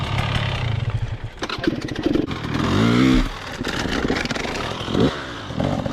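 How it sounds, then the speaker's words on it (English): Enduro dirt bike accelerating up and over a large tractor tire, its engine loud and close, climbing in a rising revving surge with rough clattering and scraping as it pushes over the obstacle. "Just accelerating all the way up till that back tire hits."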